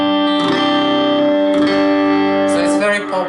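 Electric guitar played through a 1-watt Palmer amplifier with pedals at low volume, a sustained chord ringing out, then a fresh strum and a scratchy, brighter pick attack near the end.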